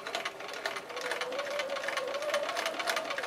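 Domestic sewing machine stitching quilt fabric pieces for a brick-pattern sampler block, a steady, fairly quiet mechanical whir with rapid needle ticks running continuously without pause.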